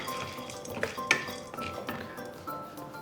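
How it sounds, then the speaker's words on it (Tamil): Roasted gram (pottukadalai) being dry-roasted in a metal kadai without ghee, with a spatula scraping and clinking against the pan in a few sharp knocks amid soft rustling and faint sizzling. "இது வந்து நெய் எதுவுமே வைக்க வேணாம், ட்ரையாக தான் ஃப்ரை பண்ணணும்."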